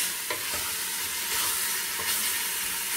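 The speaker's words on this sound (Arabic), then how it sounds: "نحمرو مليح يتقلى مليح في لاكوكو" Food frying hard in a pressure cooker, a loud, dense sizzle and hiss with a few sharp stirring scrapes cutting through near the start and again later, steady and close with no voices.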